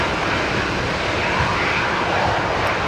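A fixed-wing airliner moving at Brisbane Airport gives off a steady, loud, broad jet-engine roar that fills the whole stretch without a break, heard just before a cyclone closure.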